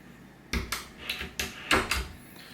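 Several quick wooden knocks and slides, like drawers being pulled open and pushed shut, close by with no talking.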